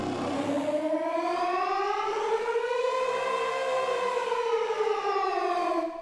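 A synthesized storm siren from the game Pacific Drive, one long wailing harmonic tone that slowly rises and falls in pitch, steady and loud throughout, alone without voices, fading at the very end.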